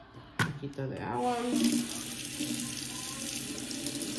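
A kitchen or bathroom tap turns on and water runs steadily into a sink, a close, continuous splashing hiss after a brief clatter at the start, with some faint voice sounds underneath.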